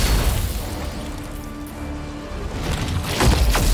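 Explosion in the turn-based game Warhammer 40,000: Chaos Gate - Daemonhunters, a dense rumbling boom with crackling bursts that swell again near the end, loud and with no one talking.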